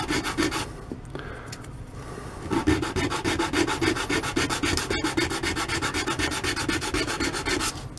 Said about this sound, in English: I'm going to, for the most part, sand that unless I tip it one way or another.